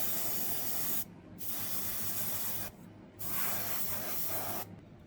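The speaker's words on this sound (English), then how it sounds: "This is applied with the airbrush." An airbrush sprays Tamiya XF85 rubber-colour paint onto a model kit wheel in three sustained close hissing bursts separated by brief pauses.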